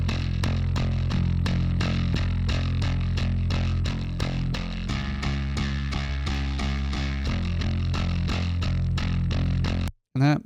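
Amped bass and sub tracks run through a Quad Cortex and mixed together give a loud, dense, heavy riff with a steady pulse, stopping abruptly near the end before a brief sound.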